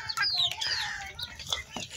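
Several desi chickens, including a white hen, cluck and chirp close by in a short continuous burst of calls, with no talk over them.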